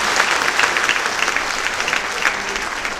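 An audience at a talk on eye surgery bursts into steady, loud applause, dense clapping that holds for the whole stretch without pause.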